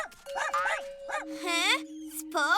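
A cartoon dog whimpers and yips in a children's animated show, giving several short rising and falling whines, then high-pitched squeals, with a steady tone running under them.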